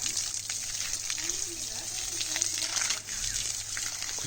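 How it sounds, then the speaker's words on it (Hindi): Steady rushing water pours continuously over a German shepherd during a bath, like a hose or tap running, with faint background voices now and then. "मैं कालू अभी नहला रहा हूँ क्योंकि गर्मी बहुत ज़्यादा है"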